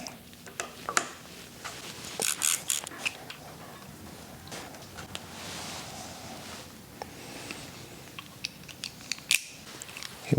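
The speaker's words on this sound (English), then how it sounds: "So what we need to do now is go ahead and take this bolt out, and then that will let us pull the light off" A T27 Torx driver backs out a light bolt on a 2019 Fat Bob 114 FXF motorcycle, giving faint, scattered small clicks and ratcheting ticks over a quiet room hiss, close by and without speech.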